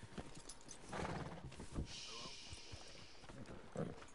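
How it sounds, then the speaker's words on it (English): A horse in the Red Dead Online video game snorts and whinnies with scattered hoof clops, fairly faint and mixed under a person talking. "My horse is hungry, looks like."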